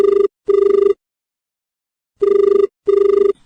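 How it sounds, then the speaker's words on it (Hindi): A telephone rings in two pairs of short electronic trills with a pause between pairs, loud and clear with nothing else heard. "तो आओ देखते हैं पहले फोन पे को है"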